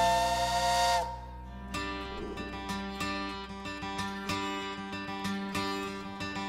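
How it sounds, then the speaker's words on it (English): A sawmill's loud steam whistle blows a sustained, harmonic-rich tone at a historic village, then drops to a lower pitch and fades, followed by rhythmic mechanical chugging and clanking. "Now that whistle means the sawmill is up and running."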